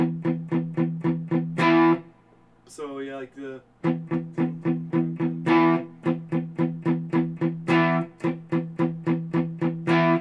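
Chugging distorted electric guitar power chords, tightly palm-muted in a steady repeating rhythm, with a brief spoken pause partway through.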